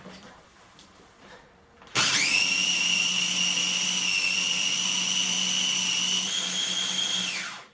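An electric grinder whirs to life and runs at a high, steady whine for about six seconds, grinding dried dandelion, broadleaf plantain and stinging nettle leaves, then winds down; faint handling noise comes before it starts.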